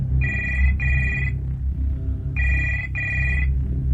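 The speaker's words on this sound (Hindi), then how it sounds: "यहां पर हर रात रूम नंबर 113 से फोन आता है" A telephone rings in a hotel room, two pairs of bright electronic trills repeating with a short pause between them, loud and close over a low background hum.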